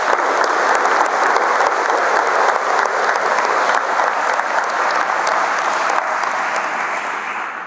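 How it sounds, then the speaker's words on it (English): Dense, sustained applause from an audience at a fifth grade promotion ceremony, a continuous wash of many hands clapping that fades slightly toward the end. "Let's give you a round of applause"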